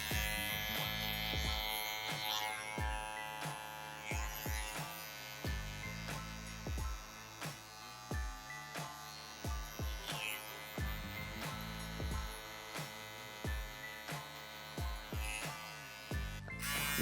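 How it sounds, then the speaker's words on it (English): An electric hair trimmer hums steadily with a raspy buzz during a barber's fade haircut, its pitch wavering as it moves, broken by brief clicks and pauses. "Trimmers."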